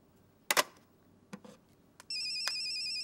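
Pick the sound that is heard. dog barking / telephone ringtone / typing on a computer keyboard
telephone ringtone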